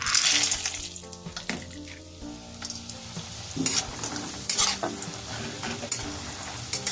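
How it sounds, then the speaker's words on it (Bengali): Bori lentil dumplings fry in hot oil in a kadai, giving a loud, close, continuous sizzle with occasional stirring scrapes and clinks. "এখানে আমি একটা কোড়ার মধ্যে কিছুটা তেল গরম করতে দিয়েছি গরম হয়ে গেছে বড়িগুলো ভেজে নিচ্ছি"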